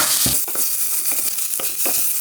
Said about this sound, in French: Dans une casserole bien chaude, faites d'abord saisir vos lardons.